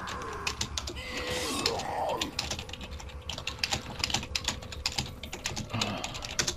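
Fast, heavy typing on a computer keyboard in a burst of dense clicks and clacks, close and fairly loud, running under game sound effects during Resident Evil 4 play.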